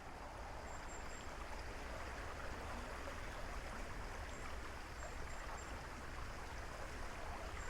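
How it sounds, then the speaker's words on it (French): The Sarine river rushes faster between narrowing banks near Fribourg, giving a steady, even, fairly faint broadband roar of flowing water with no voices. "Les deux berges se rapprochent, l'eau s'accélère."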